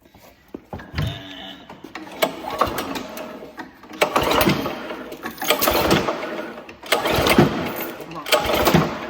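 A repaired small snowblower engine cranks and catches, then runs roughly and loudly up close in a shop while people talk over it.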